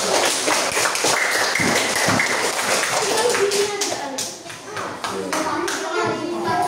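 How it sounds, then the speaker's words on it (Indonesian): A class of children claps for everyone after a lesson, brisk close clapping and tapping under children's voices and chatter, fairly loud and continuous. "kasih tepuk tangan buat kita semua"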